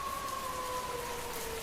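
Steady rain sound effect in a horror story, a dense even hiss on a stormy road, with a faint sustained tone running underneath.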